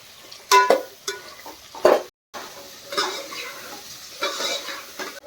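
Stirring green mangoes in hot oil for a mango curry: sharp clinks of a spoon against the pot, then a soft sizzle and scraping under low background noise.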